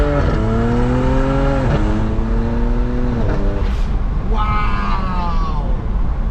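BMW 335is with a flashed dual-clutch transmission tune accelerating hard, its engine note climbing through several quick gear shifts with brief drops between, loud and close, then another rising pull at the end.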